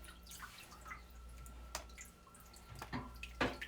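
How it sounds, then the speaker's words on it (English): Tap water runs steadily in a kitchen sink while lamb shank meat is washed under it, a faint continuous splashing stream with a few brief louder splashes and knocks near the end. "So I'm going to wash up my meat"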